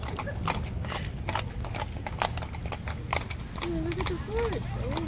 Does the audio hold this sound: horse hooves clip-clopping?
yes